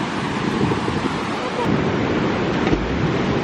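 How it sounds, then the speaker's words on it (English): A fast-flowing river near Murphys, California rushes in a loud, broad, continuous roar with wind buffeting the microphone. "Look how fast that water is going."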